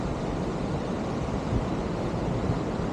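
A mountain waterfall on the Salkantay trek in Peru pours steadily nearby, a dense, even rush of water with no breaks and no voices over it.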